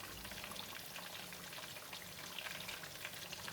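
Mackerel fish coated in chilli paste frying in a pan of oil, a steady, fairly quiet crackling sizzle with dense popping spatter, continuous and alone.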